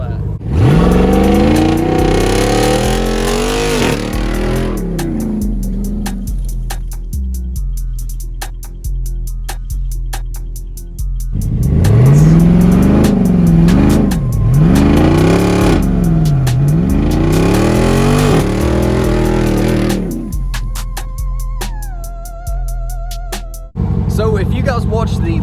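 Close, loud engine of a Jeep Wrangler Rubicon 392 revs up and down repeatedly, its exhaust knocking against the cross member and adding rattle, while a person talks over parts of it.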